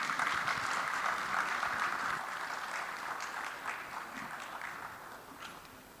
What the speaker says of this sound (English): keep your round of applause going as our panel exits the stage